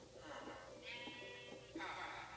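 A sheep in Minecraft bleats in a few faint, wavering calls under low background noise.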